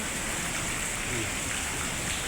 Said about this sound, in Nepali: एकदमै पानी यस्तो छ, पानी खास परिरहेको छ।